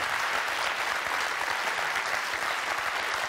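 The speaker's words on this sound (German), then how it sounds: "Wir fangen nochmal an mit Applaus." A television studio audience gives steady, continuous applause, a dense wash of many hands clapping at an even, moderate level without a break.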